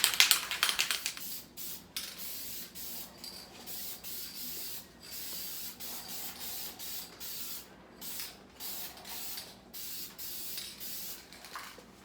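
A spray gun lays a primer coat on a BMW 335 bumper in a series of short hissing bursts separated by brief pauses, close to the microphone and without talk.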